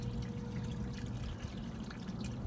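Water pumped into a garden koi pond pours and trickles in a steady, continuous low wash, fairly faint and close, with no talking over it.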